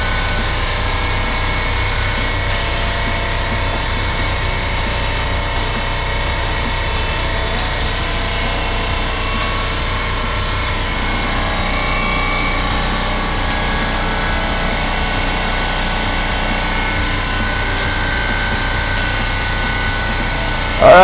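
Paint spray gun fed by an air compressor, spraying paint on a guitar body: a continuous close hiss with a running compressor hum underneath, broken at intervals by short pauses in the spraying over about twenty seconds.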